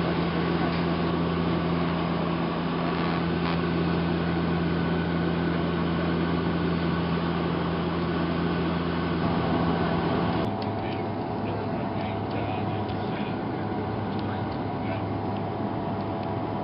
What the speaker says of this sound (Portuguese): Esse é o avião que vai de Johannesburgo para Rhodes Spirit.